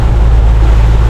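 Strong wind gusting up to 30 knots buffets a boat heading to Black Point in the Bahamas, a loud steady roar of wind noise and water rush without a break.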